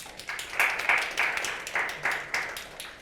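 Sparse, faint applause from a conference audience, a few soft bursts of clapping spread unevenly over a low murmur of room noise.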